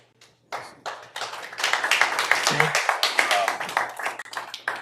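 Audience members clap at a Virginia House committee hearing on a Convention of States, a steady patter of many hands, moderately loud and sustained for several seconds in a reverberant room.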